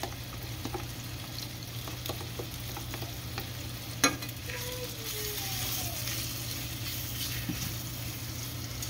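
Cornstarch-coated pieces fry and brown in a pan, with a steady close sizzle and a few light knocks and scrapes over it.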